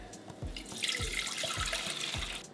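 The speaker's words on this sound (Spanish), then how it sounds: "Le agregamos 2 tazas de agua." Two cups of water poured into a small pot on a stovetop for a syrup, a steady splashing stream running throughout with a faint low thumping underneath, close and fairly soft.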